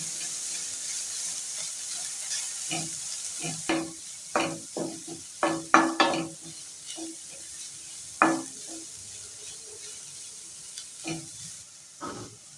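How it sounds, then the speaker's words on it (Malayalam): Green chilies, ginger and onion sauté in a pan with a soft background sizzle, broken by a series of scraping stirs and clatters at irregular intervals. "ഇതിൻ്റെ കൂടെ രണ്ട് പച്ചമുളക് ചീന്തിയത് കൂടി ഇട്ട് കൊടുക്കുന്നുണ്ട് ഇനി ഇഞ്ചിയും ഉള്ളിയെല്ലാം കൂടി നല്ലോണം ഒന്ന് വരണം"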